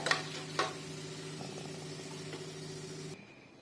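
Pirandai (adamant creeper) frying in oil for chutney, a steady soft sizzle with a low hum beneath and a couple of stirring knocks near the start, cutting off near the end.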